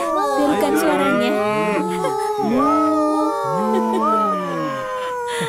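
A voice in a Teletubbies cartoon imitates a cow, drawing out several wavering moos one after another, close and clear.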